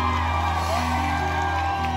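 A concert audience at a regional Mexican music show in North Carolina cheers, whoops and applauds loudly and continuously, a thick near wall of crowd noise under a sustained musical hum.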